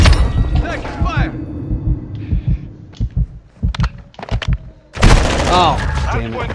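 Gunfire in the video game Modern Warfare 2, sharp bursts and single shots scattered between heavy thumps, with a dense loud volley at the end, mixed under game voice radio chatter.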